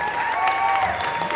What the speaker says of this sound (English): let's give a huge round of applause for them